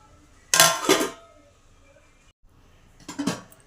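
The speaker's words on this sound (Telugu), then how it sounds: "టమాటాలు వేసుకున్నాం కదా." Tomatoes are stirred into a pan for eggplant chutney, giving two clustered metallic scrapes and clinks of a utensil against the pan, a pause, then another short pair, close and moderately loud.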